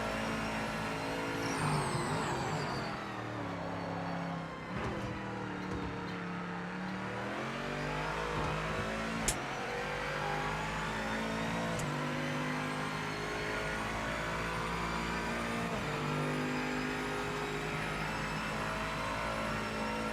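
An LMDH prototype race car in the Project Motor Racing video game laps a wet Monza circuit. Its loud, close engine revs steadily and rises and falls through gear changes across the whole stretch, with no talk.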